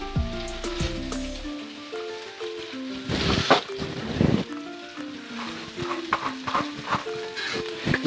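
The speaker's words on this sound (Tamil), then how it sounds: "இப்போ இதை கிண்டி கொள்ளுவோம்" Mutton liver and bell pepper gravy stirred in a pan, with a ladle scraping and sloshing through the thick bubbling mixture over a soft background sizzle, close by, while a faint music track plays underneath.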